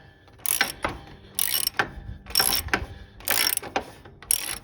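A ratchet wrench tightens a mower spindle on a Cub Cadet, heard as close, crisp clicking bursts in about five regular strokes with short pauses between, no talk.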